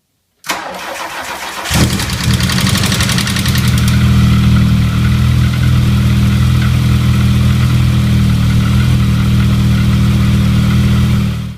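A 1980 VW Mk1 Rabbit convertible engine cranks briefly, catches and starts, then settles into a loud, steady idle that runs close by for about ten seconds with no talking.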